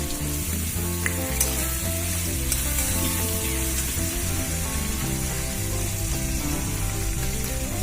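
Garlic paste fries for ghugni in a hot pan, giving a loud, continuous sizzle with occasional stirring scrapes, close and without talk.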